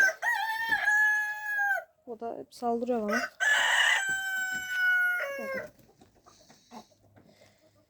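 Backyard chickens cluck while a rooster crows loudly and close, several drawn-out calls in succession, with a person speaking briefly between them before fainter clucking trails off.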